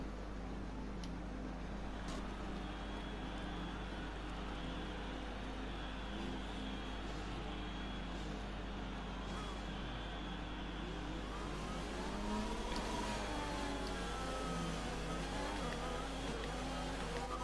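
Formula 1 car engine from the F1 2020 video game during a formation lap at the Vietnam circuit, a steady loud droning hum running throughout, with gear shifts and rising revs near the end.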